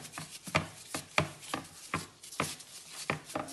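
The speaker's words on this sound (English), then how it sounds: "Now we need your help to knead the dough." Bread dough kneaded by hand on a floured surface, soft rhythmic pushing and slapping strokes repeating about every half second, close and fairly quiet with no voices.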